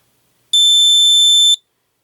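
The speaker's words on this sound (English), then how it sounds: "So 1, 2, 3, and there goes the beeper." A gate controller beeper gives a single loud, piercing electronic tone lasting about one second, then stops cleanly into silence.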